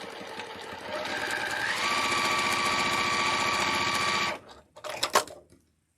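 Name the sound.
sewing machine stitching quilt pieces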